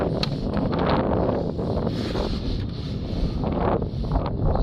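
Air rushes out as a smoke leak tester is deflated on the intake system of a BMW 318d, a continuous broad hiss that holds steady throughout.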